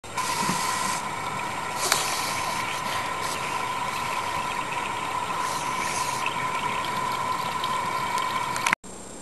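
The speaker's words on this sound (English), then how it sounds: "Now to wash my hands!" Tap water runs steadily and continuously while hands are washed at a sink, a close, even rushing with a faint hum underneath, stopping briefly near the end.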